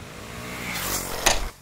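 A Bajaj Pulsar NS400Z with its 373cc engine running while being ridden: a smooth, steady hum that swells gradually, then a brief sharp burst before it drops away, with no talking.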